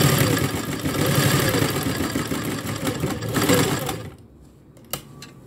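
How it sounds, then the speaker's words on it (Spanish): A domestic sewing machine stitching fabric for a bag, running in a loud, steady mechanical whir for about four seconds, then stopping abruptly and leaving near silence broken by a single sharp click. "vamos a empezar a coser"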